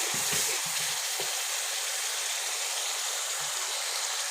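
Masala spices sizzle and fry in a pan for an aloo chana bhujia, a steady close hiss filling the clip with a few soft low stirring knocks near the start.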